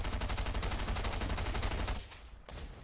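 Rapid automatic gunfire in the video game Fortnite rattles loud and continuous for about two seconds, then breaks off into a brief lull and a few quieter shots.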